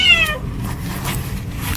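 A hungry cat meows once, close and clear, at a tilapia farm during harvest time, followed by steady low background noise from the surroundings.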